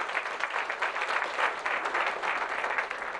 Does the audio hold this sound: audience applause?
yes